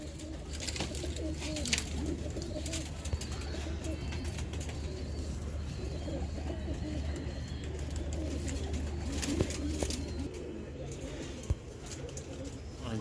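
Pigeons coo continuously in a low, rolling chorus, with scattered wing flutters and small clatters nearby, under a steady low hum in a hot loft.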